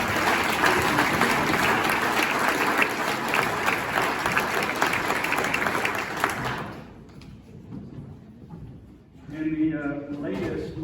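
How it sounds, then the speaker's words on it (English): Audience applause at a chamber of commerce business awards event, sustained loud clapping for several seconds that cuts off abruptly, followed by a quiet pause and then a voice speaking. "Would you please give a big round of applause for Tony Clark?"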